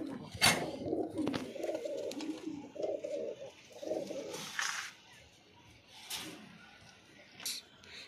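Budapest pigeons at a farm give several soft, throaty coos in repeated bursts, close by, with a few quieter calls and wing rustles in between and no talking.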